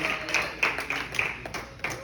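A church congregation claps in praise during a communion service, with scattered uneven hand claps at moderate volume in a reverberant hall.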